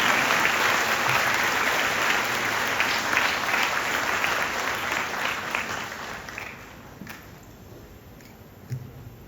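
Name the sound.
audience applauding the children in a hall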